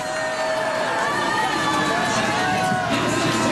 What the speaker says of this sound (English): You can probably hear the crowd there too. They are cheering him.